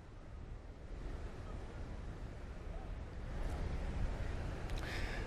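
Surf washing onto Coco Beach in Tanzania, a broad steady rush of waves mixed with wind buffeting the microphone, growing slightly louder toward the end.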